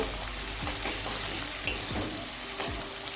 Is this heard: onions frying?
yes